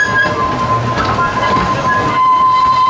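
Amusement park train rolling past at Blackpool Pleasure Beach, loud and close, with continuous rumbling wheels and a sustained high metallic squeal, with no voices.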